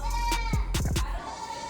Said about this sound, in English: I'm talking about the goat.